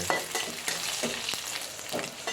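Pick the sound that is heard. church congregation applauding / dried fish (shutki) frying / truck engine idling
dried fish (shutki) frying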